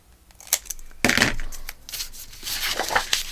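Scissors cutting a 12-inch scrapbook paper sheet in half give crisp, close snipping and crunching strokes, with one loud sustained cut followed by rustling paper handling, no talk.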